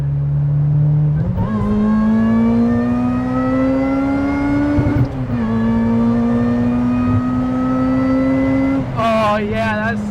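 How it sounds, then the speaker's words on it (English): A supercharged, backyard-built Honda Civic EP3 Type R running meth injection holds a loud steady engine note with a prominent rising supercharger whine, climbing gradually through two long pulls, then a sharp blip of revs near the end. "I love the noise of the supercharger"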